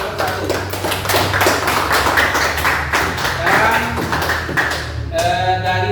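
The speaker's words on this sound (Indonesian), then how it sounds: "Tepuk tangan untuk Gio dan kelompok" Classroom clapping for a student group after a presentation, a steady dense patter of many hands that runs throughout and fades near the end, with some voices mixed in.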